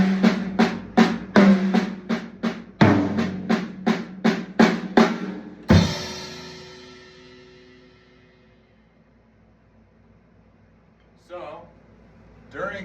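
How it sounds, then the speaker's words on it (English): Paradiddle drum fill on a kit, accents falling on rack tom and floor tom, ending in a crash cymbal struck with the kick drum; a quick even run of loud hits, then the crash rings out and decays alone, with faint talk near the end. "we're going to have an accent in the right hand, and then a crash with a kick drum"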